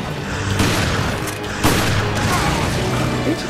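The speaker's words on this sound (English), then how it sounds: "I'll just use the shotgun." Shotgun blasts in Resident Evil: Revelations during a boss fight: two sharp, loud reports a second apart over a dense, noisy game soundscape.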